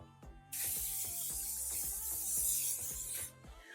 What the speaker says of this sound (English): I like to flip my head over and spray some hairspray